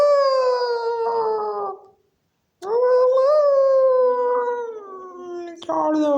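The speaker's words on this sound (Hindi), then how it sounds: "कुत्ते मेरे पीछे पड़े हैं" Cartoon dogs howling and barking while chasing someone, long wailing tones with a short silent gap in the middle, close and loud.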